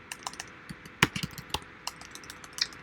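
Quick bursts of keystrokes on a computer keyboard while a name is entered during an operating system setup, irregular clicks with a few louder taps, close and alone with no talk.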